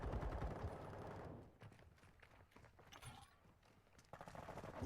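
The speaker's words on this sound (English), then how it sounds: "Changing mags." Gunfire and mechanical clicks of a magazine change during a Modern Warfare 2 firefight, with dense bursts at the start and end and busy metallic handling sounds in between.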